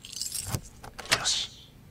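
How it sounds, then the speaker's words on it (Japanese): Keys jangle in the video game Judge Eyes, a couple of short metallic rattling bursts close up against a quiet background, with no one talking. "そうだそうだ、鍵があったんだ。"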